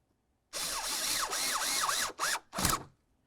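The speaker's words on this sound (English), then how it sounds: "Now let's get this last bolt in here." Power drill or driver runs in a whirring burst, then two short pulses, as the final bolt goes in while replacing the blower motor on a 2004–2006 Scion xB; close and clear, with no talk.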